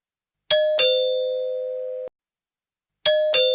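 A two-tone doorbell chime rings in a home, a bright ding-dong that sustains and decays, then repeats a second later; loud and clear with no talking.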